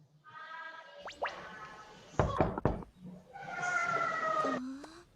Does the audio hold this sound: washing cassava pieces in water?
no